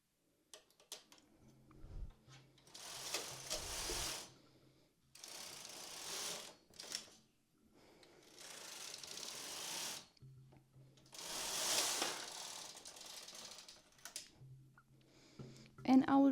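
A knitting machine with main bed and ribber knitting two rows, the carriage sliding across in several long rasping, whirring passes with mechanical clicks between them, with a voice speaking at moments.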